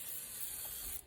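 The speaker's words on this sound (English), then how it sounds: "We're gonna spray a little bit of oil" Oil sprayed onto a Pampered Chef air fryer tray, a single continuous close hiss lasting about a second before cutting off.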